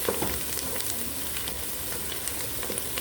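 Oil heating in a pot for Ethiopian wot stew gives off a steady, dense sizzle and crackle, loud and close throughout with no pauses and no talking.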